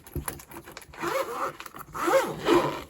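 A small zippered pouch closing, with several quick rasping zip strokes up close and no talking over them.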